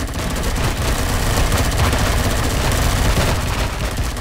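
Sustained gunfire from a firefight in the space survival game Empyrion: Galactic Survival, dense rapid shots blending into a loud continuous rattle with no pauses.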